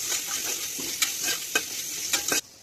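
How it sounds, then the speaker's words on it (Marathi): Onion fries in a pan for a Marathi wedding-style masale bhaat, giving a soft steady sizzle while a spoon scrapes and stirs in repeated strokes, close by, ending abruptly. "कांदा फ्राय करायचा आहे."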